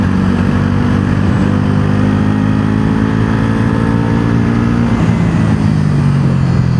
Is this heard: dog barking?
no